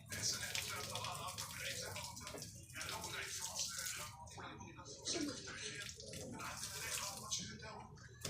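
Water runs and splashes over a carpet being rinsed by hand with a brush, a steady wet spray with irregular bursts, with a voice talking throughout.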